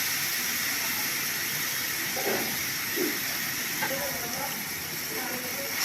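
Chopped onion frying in fish oil, a steady loud hiss and sizzle with faint crackles, continuous throughout.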